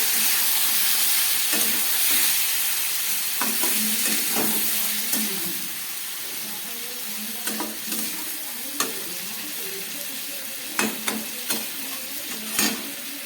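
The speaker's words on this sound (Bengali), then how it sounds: "গোলমরিচটা একটু জল দিয়ে দিলাম দিয়ে আবার একটু ভালো করে মশলাটা কষিয়ে নেব" Spice paste with crushed black pepper and a splash of water stir-fried in a pan for a fish curry, a steady sizzle and hiss broken by repeated scraping stirs and clinks, close and fairly loud, with no talking.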